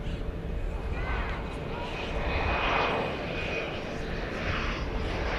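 A Bombardier CRJ regional jet in SkyWest livery on final approach at DFW Airport in the evening gives off a steady, broad engine roar that swells and fades slightly as it passes.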